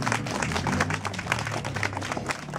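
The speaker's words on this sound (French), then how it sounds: "le public en délire applaudit une deuxième fois." An audience at a festive evening market show in Corcieux applauds, with dense, continuous clapping throughout and a faint murmur of voices underneath.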